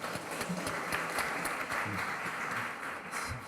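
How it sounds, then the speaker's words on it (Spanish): Audience applause at a provincial judicial plenary session in Arequipa, Peru, greeting a deputy prosecutor: a steady, fairly faint wash of clapping from a hall full of people, continuous throughout with no voices over it. "a quien brindamos un fuerte aplauso"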